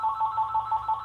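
Telephone ringing in short repeated electronic trills, a clear rhythmic pulsing tone, fairly close and alone.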